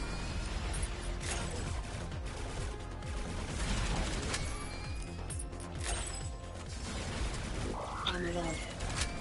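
Dense bullet-hell weapon fire in the sci-fi shooter Returnal, a constant barrage of rapid shots and impacts layered over game music and effects, loud and busy throughout.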